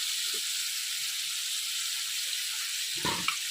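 Onions, tomatoes and cashews fry lightly in a pan while making paneer curry, giving a steady soft sizzle throughout with a brief louder crackle and stir near the end.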